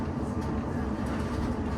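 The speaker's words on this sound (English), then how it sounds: "train's about to leave Tipton now" A West Midlands Railway train pulls out of Tipton station, heard from inside the carriage as a steady, close, broadband rumble of wheels and motor with no talking.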